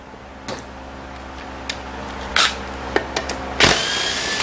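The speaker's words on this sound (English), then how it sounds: "Remove our pump bolts." Power tool driving out the 10mm pump bolts on a 5R55S automatic transmission, with several short bursts of whirring and sharp clicks spaced across the clip, close and fairly loud against a steady low hum.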